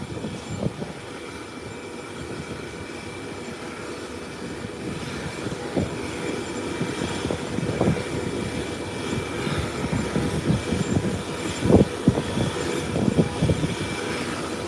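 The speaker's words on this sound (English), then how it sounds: "The flight will be coming in momentarily. That's the Boeing 777." A Boeing 777 approaches an airport, heard as a distant, steady engine rumble that builds gradually with uneven wind-like buffeting and a few thumps, fairly loud and without talk.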